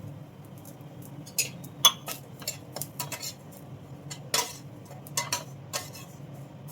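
Dry semolina (rava) being roasted in a pan for upma, stirred with a metal spoon that gives repeated sharp scraping clinks against the pan over a low background hiss, with no talk.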